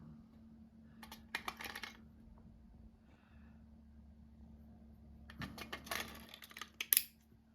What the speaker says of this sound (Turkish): 2 adet AA pillen çalışıyor. Pillerimizi koyalım.